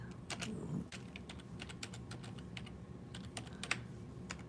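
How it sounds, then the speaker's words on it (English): Rapid keystrokes on a computer keyboard tap out in quick irregular bursts, close and fairly quiet, with no talking. "I'm just going to type in"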